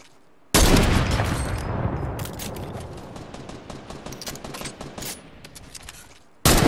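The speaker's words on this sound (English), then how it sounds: "there's someone shooting at me" Gunfire in the video game Fortnite, a dense burst of rapid shots and cracks that starts abruptly and fades over several seconds, with a few louder separate blasts at the end.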